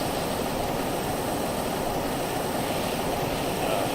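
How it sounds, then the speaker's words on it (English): Helicopter engine in the Stormworks game, a steady, loud, dense rotor-and-turbine roar that holds constant throughout with no other sounds. "One nice thing about this helicopter is it does float, so I can land on the water with it."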